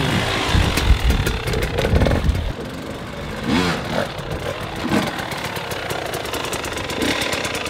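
Dirt bike engine pottering slowly around an enduro track, a fairly close, uneven low rumble with blips and clattering revs that rise and fall, no talking.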